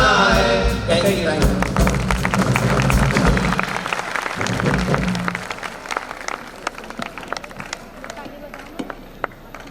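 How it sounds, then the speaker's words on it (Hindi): An audience at an Independence Day celebration claps after a performance, loud sustained applause that thins into scattered individual claps toward the end, with a voice briefly heard at the start. "एक बार जोरदार तालियां हो जाए इस धमाकेदार परफॉर्मेंस के लिए।"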